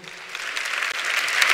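A church congregation claps in praise during a sermon, a brief, full burst of many hands applauding together and growing slightly louder.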